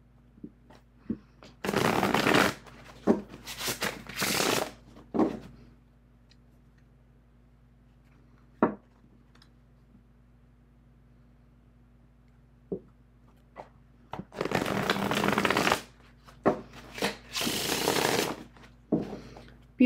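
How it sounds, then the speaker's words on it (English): Bursts of Artisan Tarot cards being riffled and bridged, several quick flurries separated by quiet pauses with a few soft taps. "I'm going to give a shuffling demonstration for each one."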